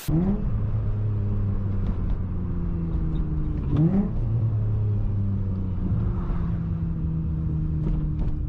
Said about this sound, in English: the sound of this car is heavenly